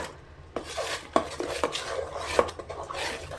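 A batter of flour for coconut burelu being mixed by hand or spoon in a bowl, with soft squelching strokes and a few sharper knocks against the vessel, close and moderately loud.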